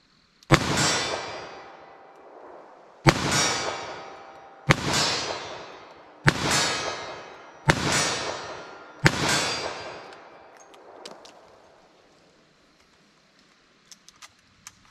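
Six loud .38 Special gunshots ring out at an outdoor range, fired toward a target 40 yards away with stout, powerful ammunition. The sharp cracks come at a steady pace, each trailing a long echo before a quiet tail.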